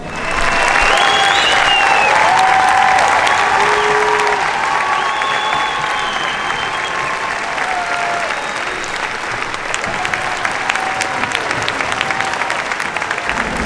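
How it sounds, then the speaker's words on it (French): A large crowd applauds non-stop at the closing of the Puy du Fou theme park, a sustained wash of clapping with scattered whistles and shouts, loud at first and easing slightly. "Ça applaudit en non-stop."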